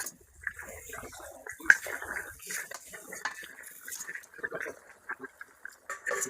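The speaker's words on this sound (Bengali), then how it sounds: "জল ভালোভাবে ফুটে গেছে, এই যে মাছ আমি দিয়ে দেবো, ভাজা মাছ দিয়ে দেবো" Pieces of fried tilapia are dropped into a pot of boiling water for a fish curry, with clattering pot and spoon sounds, scattered splashes and irregular clinks close by.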